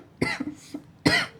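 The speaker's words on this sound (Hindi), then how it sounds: "खांसी हो रही" A person coughs several times in a quiet indoor setting: a sharp cough, a smaller follow-up and a faint hack, then a final loud cough after a short pause.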